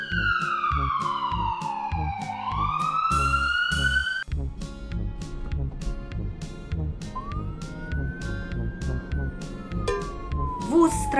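An emergency siren glides down then climbs back up, followed by a slower rising wail, loud and near, with a rhythmic musical backing throughout.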